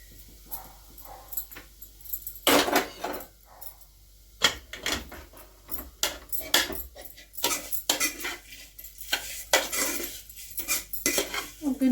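A metal spoon scrapes and clinks against a steel pan and bowl as roasted vermicelli for semiya payasam is transferred, in irregular bursts of clatter without speech.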